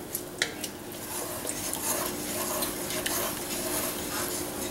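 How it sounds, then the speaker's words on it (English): Tomato sauce being stirred into chili in a pot, with soft wet scraping and a few sharp clinks of a utensil against the pot near the start, over a low steady background. "Stir it on in."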